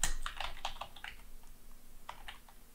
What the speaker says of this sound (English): I'm just gonna type it in because I only want a certain pieces of it.